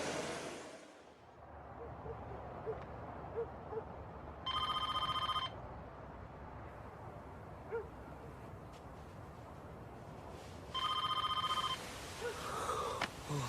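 A telephone bell rings twice in two short bursts of trilling chime, about six seconds apart, over quiet room noise with no voices.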